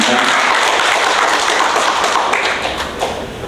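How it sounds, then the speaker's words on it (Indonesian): Applause from the audience at a regional leadership meeting of the Berkarya party in Banten, a dense continuous patter of many hands close by that stays steady and then thins slightly toward the end. "Tepuk tangan untuk semua kita."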